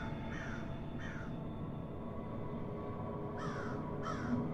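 A crow caws four times, in two pairs of harsh calls, at moderate distance over a faint steady background hum, with no talking.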